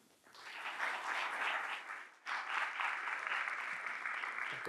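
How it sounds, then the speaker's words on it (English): An audience at a university speaker-series event breaks into sustained applause for a guest speaker, with a brief dip midway before the clapping swells again and continues steadily to the end. "let's all welcome with a warm round of applause, Mr. Gianfranco Panda Batting."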